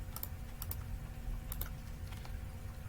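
Keys clatter on a computer keyboard while someone types a value during a web-design tutorial, a few quick bursts of soft clicks separated by short gaps over a low background hum.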